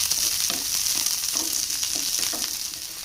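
Sliced onions sauté in a hot pan for a South Indian onion, tamarind and chili dish, giving a steady, close hiss of frying with soft periodic scrapes of stirring.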